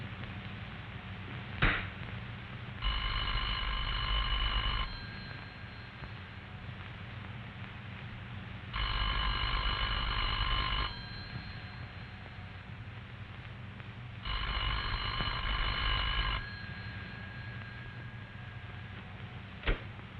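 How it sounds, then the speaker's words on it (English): A dial telephone's bell rings three times, each ring lasting about two seconds with evenly spaced silent gaps between them, clear and fairly close. "a clear, evenly spaced ring that sounds like this"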